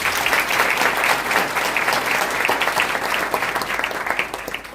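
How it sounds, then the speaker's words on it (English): An audience at a devotional Aradhana Mahotsavam gathering applauds dancers, a steady, full round of many hands clapping close and loud for nearly five seconds. "A round of applause for Bhavika's."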